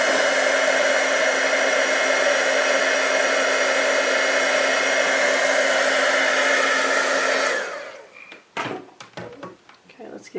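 A heat tool blows a loud, steady whirring stream of air up close as it melts embossing powder on a stamped rose card, then switches off, followed by light clattering handling sounds.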